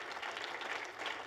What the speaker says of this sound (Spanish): ¿Alguien le quiere dar un aplauso al Señor?